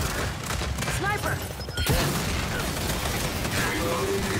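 Enemy sniper rifle fire in the Gears 5 video game, a few sharp cracks amid busy battle noise and a loud boom near the middle, with someone talking over the action.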